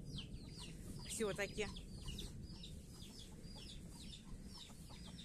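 Young chickens kept in cages in a yard after heavy rain cluck in a quick burst of calls, with softer clucks following over a quiet outdoor background, and a voice speaks briefly.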